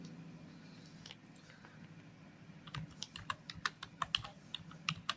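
Typing on a computer keyboard in a web browser: quiet tapping starts slowly, then speeds into a run of crisp, close key clicks over faint room hum.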